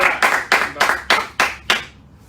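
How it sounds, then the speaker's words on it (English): Hand clapping at a live talk-show studio taping, about six sharp, evenly spaced claps, close and loud, ending in a short fade. "Give him a round of applause."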